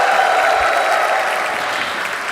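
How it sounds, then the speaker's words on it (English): A large audience applauds in a steady, dense wash of clapping that stays loud and even throughout, with no voices standing out. "Can we have a bigger round of applause for him, please?"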